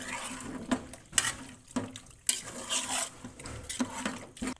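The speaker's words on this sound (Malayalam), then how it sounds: "ഇനി ഇത് നല്ലപോലെ മിക്സ് ചെയ്തെടുക്കുക" A spoon stirs beef with ginger-garlic paste in a pan for a beef curry, with scraping strokes and sharp metallic clinks in an irregular rhythm, close and moderately loud.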